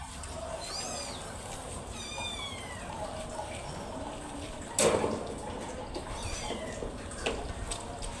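A cat meows repeatedly while being bathed, with drawn-out complaining cries spread across the scene over running water and splashing, plus a sharp bang midway.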